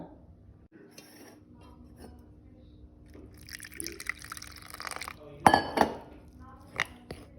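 Gram flour and water are stirred together in a bowl, with a quiet, intermittent scrape and patter of batter and a few sharper clinks of a spoon against the bowl toward the end.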